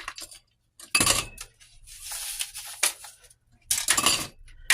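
Round ice cubes clink and rattle against a glass in sharp, bright bursts separated by brief pauses, close and fairly loud with no talking.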